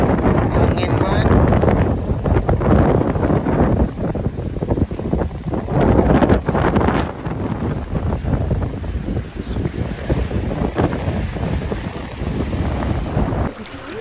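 Strong wind buffets the microphone during a fishing trip in Mati, a loud continuous roar that gusts and rumbles without pause for the whole stretch.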